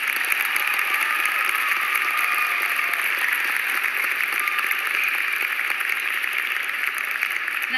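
Dense, steady applause fills a large hall at the Youth America Grand Prix Las Vegas 2019 awards show as senior division winners are honored, a continuous wash of many hands with no pause for the full length.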